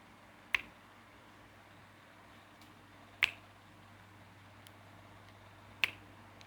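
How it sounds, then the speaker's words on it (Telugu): Three crisp finger snaps ring out a few seconds apart in a quiet room, each a sharp isolated crack followed by silence. "ఎన్నిసార్లు చిటికలు వేసాను?"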